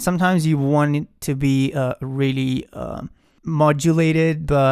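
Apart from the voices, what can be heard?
No everyday noise stands out behind the speech.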